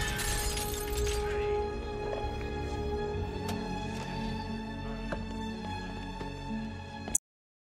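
Glass shatters in a movie scene, a dense burst of breaking fragments at the start that tails into scattered tinkling pieces and ringing debris over a low background, then sudden silence.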